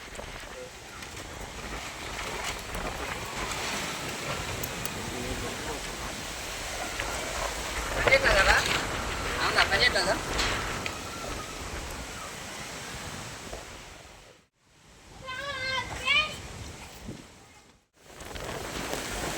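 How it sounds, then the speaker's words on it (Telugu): Strong gusting wind of a wind, rain and dust storm roars with a constant rushing noise, rising and falling, briefly cutting out near the end; a voice is heard faintly. "గాలి వాన దుమ్ము ధూళి అన్నీ ఒకేసారి వస్తున్నాయి"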